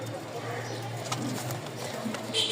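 Soft cooing of Rajshahi Giribaz pigeons sits low under a steady background hum, with faint murmuring voices mixed in throughout.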